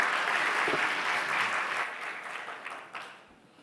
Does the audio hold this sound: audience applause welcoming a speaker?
yes